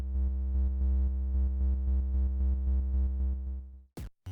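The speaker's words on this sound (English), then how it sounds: "I tried to recreate sort of like a hum that you would maybe hear from being in a spaceship" A synthesized hum meant to evoke the interior of a spaceship, made for a game-jam soundtrack: a steady, loud tonal drone with a rhythmic pulsing throb that cuts off near the end, followed by two brief noisy bursts.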